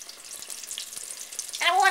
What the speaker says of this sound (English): oil is heated, and I'm going to start putting in some shrimp